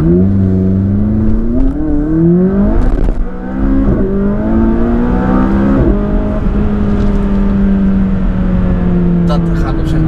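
Car accelerating at full throttle from a standstill, the engine note climbing through rising, stepping gear pulls and a loud roar, with a person talking over it.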